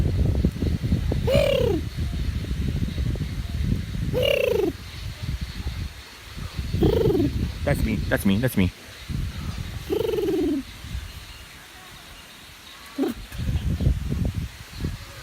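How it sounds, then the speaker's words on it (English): Doves coo in deep, repeated phrases about every three seconds, with a person talking between and over the calls. "You heard the birds."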